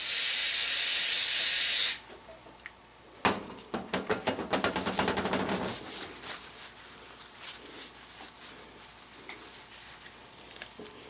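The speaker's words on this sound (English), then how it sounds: "Some brake clean." Brake cleaner hisses loudly from an aerosol can onto a trailer hub wheel bearing for about two seconds. A pause follows, then patters and drips of liquid fade away.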